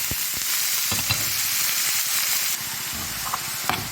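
Onions sizzle and fry steadily in hot ghee in a pan, a dense, close hiss with a few soft stirring clicks and no talking.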